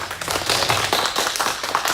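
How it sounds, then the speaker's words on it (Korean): A church congregation applauds together at a live worship service, a dense, steady wash of many hands clapping at close range that fills the room throughout without pause. "박수 한번 할까요?"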